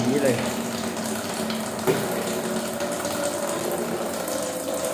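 Water rushes through a newly installed drinking water filter during its first flush, a steady close hiss and splash with a brief knock partway and some voice in the background.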